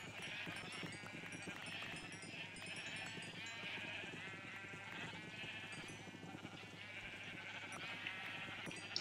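A crowded flock of Minecraft sheep in a modded game bleats nonstop, their high wavering calls overlapping into a thick, even chorus with no pauses and no talking.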